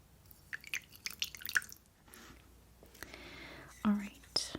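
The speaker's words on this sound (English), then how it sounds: "So I'm just going to pour a little water." A little water poured into a vase during a quiet skin-exfoliation and massage session, with soft drips and splashes, then a brief gentle trickle, under faint whispering.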